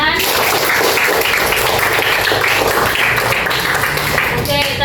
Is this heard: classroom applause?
yes